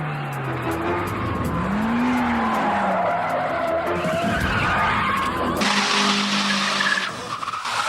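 Mitsubishi cars skid and spin during a film stunt, tires squealing in long wavering screeches over revving engines, loud and close, with a burst of harsher noise toward the end.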